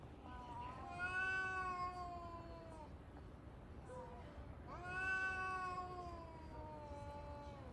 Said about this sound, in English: I was walking home, and I ran into a huge cat fight